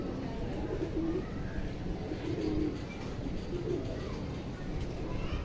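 Pigeons coo on a rooftop among a large flock, giving a few soft, low, throaty calls repeated at a slow, steady pace under a constant wash of outdoor background noise.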